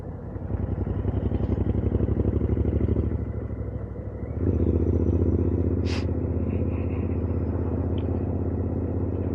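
A Royal Enfield Interceptor 650 rumbling along on a test ride near Colchester army garrison, steady low engine drone that dips briefly and then climbs back as the bike accelerates, close and continuous.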